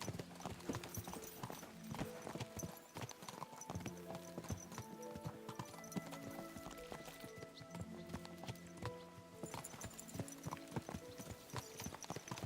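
Horse hooves pound in a continuous rapid gallop while riding in the Kingdom Come Deliverance 2 video game, steady and close under background music.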